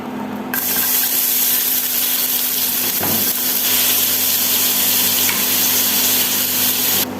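Seafood, including sliced frozen crab meat, sautéing in a pan for seafood pasta, a steady, loud sizzle and crackle throughout with a brief scrape of stirring partway.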